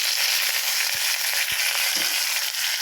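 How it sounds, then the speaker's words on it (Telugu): Onions, green chilies and curry leaves frying in hot tempering oil, a dense, steady sizzle with a few brief taps or stirring knocks, close and without talk. "బాగా గోల్డెన్ బ్రౌనిష్ వచ్చేంత వరకు వేయించుకుందాము"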